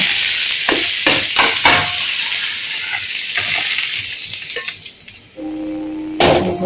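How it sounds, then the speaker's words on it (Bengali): Potatoes and drumsticks sizzle steadily in a hot oiled pan, with a spatula scraping and clinking against the metal in uneven strokes, close and fairly loud. "ভালো মতন আলু ডাটা ভাজা হয়ে গেছে"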